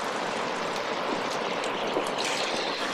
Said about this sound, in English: You can see the water flowing there?